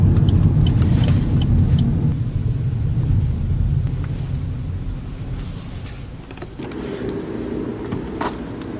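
A car rolling slowly into a motorcycle shop's lot, a close, loud low engine rumble with tyre noise that eases and settles, then shifts as the vehicle slows and stops.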